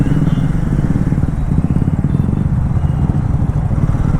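Triumph Thruxton 400 motorcycle engine running in city traffic, a steady loud thrumming with a low pulsing exhaust note held throughout, close and continuous with no talk.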